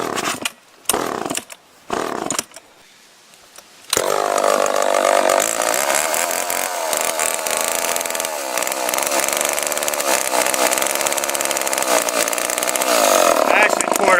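A STIHL MS391 chainsaw makes a few short, choppy bursts at the start, then catches and runs loudly and steadily up close, its engine note wavering for the rest of the clip.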